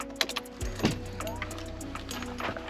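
A key slides into the ignition of a 640 bhp Nissan Skyline R32 turbo, making a few close metallic clicks and taps over a steady electronic chime tone inside the car.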